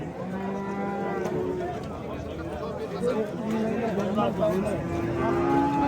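A heifer calf and other cattle moo repeatedly at a crowded livestock market, overlapping drawn-out calls near and farther off, mixed with steady crowd chatter and people talking.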